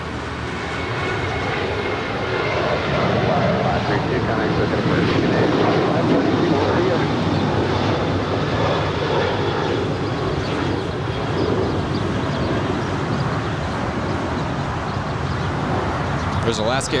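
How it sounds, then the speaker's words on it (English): An Alaska Airlines Boeing 737-800 bound for Portland departs LAX, its engines giving a sustained, moderately loud roar across the whole stretch, with conversation running beneath it. "There's Alaska Airlines 532 headed to Portland and the Boeing 737-800."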